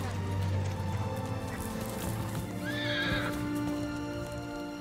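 A horse whinnies loudly in an outdoor riding scene. The neigh rises and falls once near the middle, over steady hoof clopping and a busy, noisy background, with no speech.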